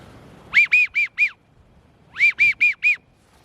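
A duck call imitating a widgeon whistle, blown in two quick bursts of four whistling notes each, separated by a short pause, loud and close with no talking.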